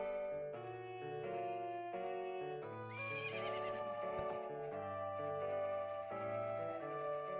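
Game music plays steadily in Zelda: Majora's Mask 3D, and partway through a bright, shrill horse whinny from Epona at the ranch cuts in, loud and brief.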